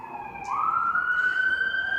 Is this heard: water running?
no